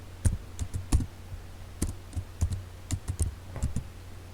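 Fingers type on a computer keyboard, producing a close series of soft, uneven key clicks in short clusters, with a low steady hum underneath.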